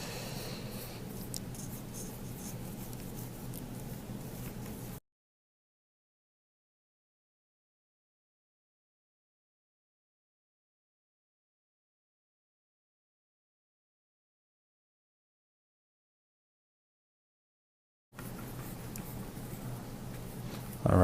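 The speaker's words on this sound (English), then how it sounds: "Alright, so I painted along that top part." A brush strokes paint across paper in a watercolor study after Hokusai, a soft steady rubbing texture close by, faint and continuous with a long silent gap in the middle.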